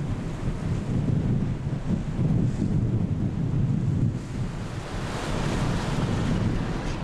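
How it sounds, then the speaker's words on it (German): Strong wind sweeping over the North Sea on the way to Helgoland, a loud, continuous roar of gusts and breaking waves buffeting the microphone aboard a boat in heavy seas, with no voices. "Eine halbe Stunde später fegt der Wind übers Meer."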